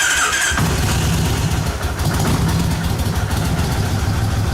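A Kawasaki Vulcan 1600 Classic motorcycle engine cranks briefly, fires up after an oil and filter change, and settles into a loud, steady, rumbling idle close by, with no talking.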